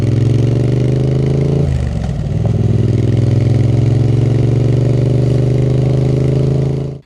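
A Triumph Speed Twin 900 motorcycle's engine drones steadily while riding, a loud, close twin-cylinder hum with a brief gear change and rev dip early on, then a sustained even pull until it cuts off.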